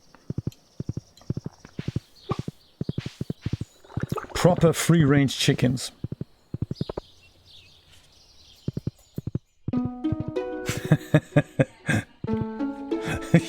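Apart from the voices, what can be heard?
horse hooves clip-clopping in video game Stardew Valley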